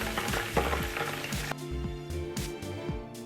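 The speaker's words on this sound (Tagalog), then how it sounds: "ilalagay na natin ang ating sweet chili sauce" Sweet chili sauce sizzles in a hot pan with garlic chicken, a steady close frying crackle over a low tonal background, with no talking.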